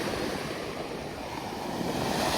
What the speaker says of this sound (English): Love listening to the waves.